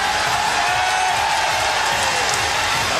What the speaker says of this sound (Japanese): 大きな歓声です